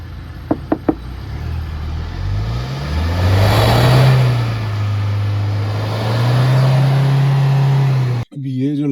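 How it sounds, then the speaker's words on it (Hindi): Tata Hexa with dual exhaust and a check-engine malfunction, a few sharp knocks then the engine revving up twice with rising and falling roar, close and loud, cutting off abruptly at the end. "ये उस टाइम फंक्शनिंग डुअल एग्जॉस्ट के साथ आपको देखने को मिलती थी। मैं इसका आवाज भी आपको सुनाऊंगा।"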